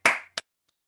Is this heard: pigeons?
no